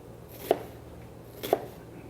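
A chef's knife cuts onion into thin strips, giving two crisp, separate knife strikes about a second apart against a board, quiet and close with no talk.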